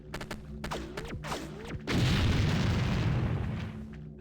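Explosions from exploding aliens in the video game X-COM: Apocalypse: after a few sharp bursts and whooshes, a loud, sustained rumbling blast rolls on for about two seconds before fading.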